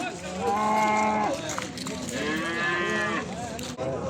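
Fat calves at a livestock market in Beylagan bellow in two long drawn-out moos, close and fairly loud, with crowd noise murmuring underneath.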